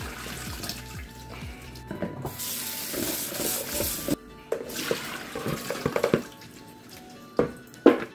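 Salted vegetable being rinsed under running water to draw out its bitterness, with a steady rush of water in two long spells and handling clatter in between, close by and without talk.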